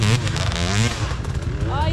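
Enduro motorcycle engine revving loudly at a race in Samara, a near, rising and falling engine drone with a voice talking over it.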